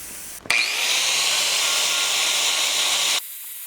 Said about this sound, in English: we're going to use basically just a small wire brush to get into those areas